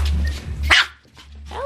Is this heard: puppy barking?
yes